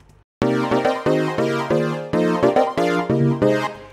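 Plain synth chords with no arpeggiator, struck as a series of sustained block chords, about nine in a row, each decaying slightly before the next; loud, clean and alone.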